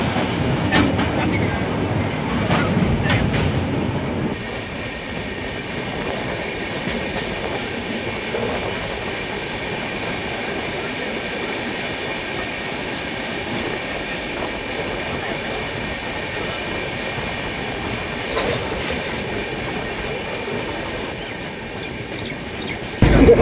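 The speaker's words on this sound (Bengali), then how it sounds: "আমাদের ট্রেন নিউ বঙ্গাইগাঁও জংশনে ঢুকছে।" Saraighat Express rolling into New Bongaigaon Junction: a moderate, continuous rail rumble with faint clickety-clack and a few sharp knocks, louder at the start before settling into a steady drone.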